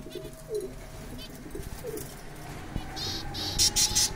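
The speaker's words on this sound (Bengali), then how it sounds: "দেখেন যে আমার এখানে যে কবুতরগুলো আছে" High-flying pigeons, local yellow-eyed Giribaz among them, cooing in soft repeated low phrases close by, over a busy outdoor background, with scattered chirps and a few sharper bird calls at the end.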